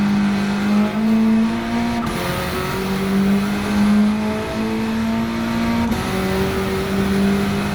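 Engine of a 508 hp EK Honda Civic Type R in Gran Turismo 7, a loud steady drone with pitch stepping through gear changes under hard braking, close and continuous with no talk.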